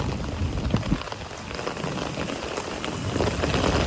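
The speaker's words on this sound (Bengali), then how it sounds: "কি জোরে বৃষ্টি হচ্ছে" A heavy downpour drums steadily on nearby surfaces in a continuous, loud wash of rain that swells slightly toward the end. No one speaks.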